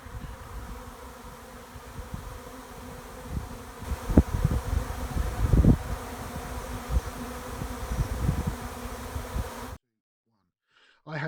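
A honeybee swarm hums and buzzes outdoors around a hive baited with lemongrass oil, a dense continuous drone with individual bees passing close, ending in a brief silence.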